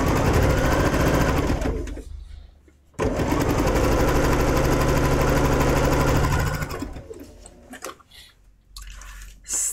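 A sewing machine stitches cotton quilt-block fabric the machine struggles with, running in two loud sustained bursts separated by a brief pause, then stopping into quieter handling noises.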